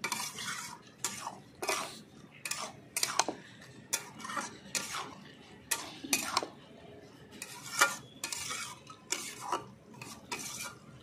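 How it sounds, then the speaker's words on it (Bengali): A pan of mixed vegetable curry with broccoli, peas, carrot, beetroot, green tomato and coriander leaves being stirred, rhythmic spoon scrapes and clinks against the pan about once a second over a faint simmer. "ভালো করে ধনেপাতা মিশিয়ে নিচ্ছি।"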